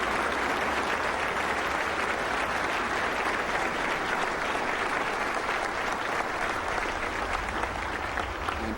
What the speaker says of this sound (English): and they applaud him.